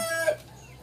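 Rhode Island Red chickens in a backyard breeding pen give a single short cluck that stands out briefly before fading into quiet surroundings.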